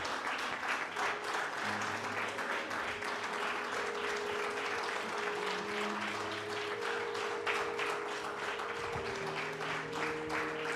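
Congregation applauding in a church service, a steady wash of clapping from many hands throughout with sustained organ or keyboard tones and a faint voice beneath.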